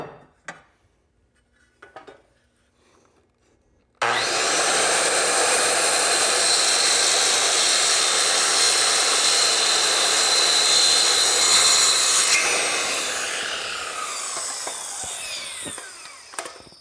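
A Diablo blade saws through steel angle iron in one loud, continuous cut of about eight seconds. The harsh metallic whine then fades as the blade spins down, with brief quiet handling noises before it.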